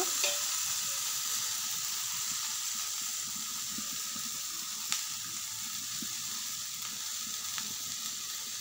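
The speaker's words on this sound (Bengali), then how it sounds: "ভেজে রাখা আলুটা এখন দিয়ে দিব।" Fried potatoes go into a hot pan of ghugni, a steady close sizzle running throughout with faint scraping stirs and a couple of brief clinks.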